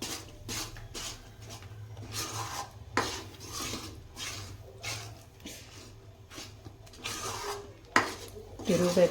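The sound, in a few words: stirring Mysore pak mixture in a pan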